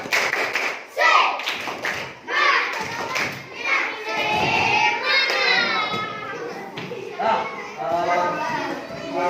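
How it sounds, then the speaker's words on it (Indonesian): Schoolchildren repeat the 'tepuk semangat' clapping chant in their classroom at the teacher's call, many young voices chanting loudly in unison with crisp rhythmic claps running through several phrases. "Lagi kembali. Tepuk semangat."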